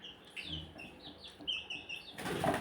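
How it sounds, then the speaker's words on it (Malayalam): Young chickens chirp and cluck nearby, then wings flap in a short rough burst near the end. "അപ്പം നമ്മുടെ കോഴിക്കുട്ടന്മാരൊക്കെ ഇത്രയായി പറന്ന് കളിക്കുന്നുണ്ട് കേട്ടോ."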